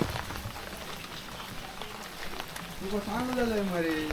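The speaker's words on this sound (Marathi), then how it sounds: "पाऊस खूप होतो" Steady rain pours down in a Konkan village, a continuous hiss that holds at an even level throughout while people talk nearby and a voice rises toward the end.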